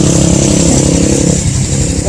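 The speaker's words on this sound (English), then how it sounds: "Bikes and 4-wheelers up it nonstop." Motorcycles and four-wheelers riding up a busy dirt county road near Silverton, Colorado: loud, steady engine roar close by, with rumbling buzz throughout and a slight shift in pitch partway through.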